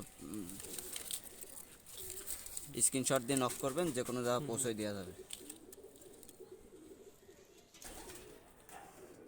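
Pakistani high flyer pigeons coo softly in a repeated rolling pattern under steady nearby talking, with faint ambient background throughout.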